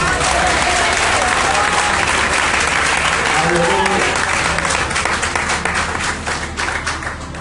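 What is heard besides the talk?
church congregation clapping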